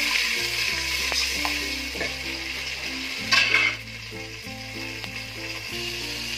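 A ground paste of ginger, garlic, onion and green chilli sizzles steadily in hot oil, with a continuous frying hiss, occasional stirring scrapes against the pan and a low electrical hum beneath.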